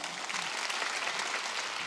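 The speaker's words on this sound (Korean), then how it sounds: "박수 좀 쳐줘" A congregation claps together during a Wednesday church service, steady dense applause filling the room throughout with no pauses.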